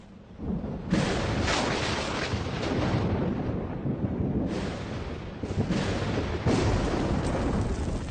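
Deep, rolling thunder rumbles loudly in long sustained waves, swelling and fading over several seconds with no voices.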